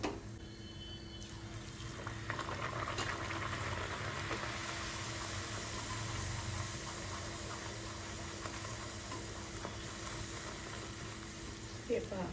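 Purple yam (ratalu) gharge frying in hot oil in a kadhai, a steady soft sizzle and bubbling running throughout at even loudness, with faint background hum.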